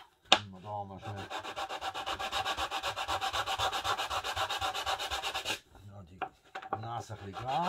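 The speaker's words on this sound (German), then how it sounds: "Ein bisschen grad schleifen." Wood is sanded straight for a model board with a steady, rasping back-and-forth rubbing that runs for about five seconds, with brief speech around it.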